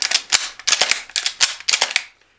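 Sharp mechanical clacks of a Remington 870 Wingmaster pump-action shotgun being racked, several quick back-and-forth cycles in close succession, loud and near with no talking.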